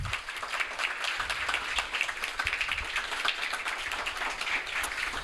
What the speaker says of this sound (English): can I please get some applause for Contino, please?